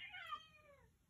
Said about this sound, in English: Oh, that's my cat. He's wants to get in my studio.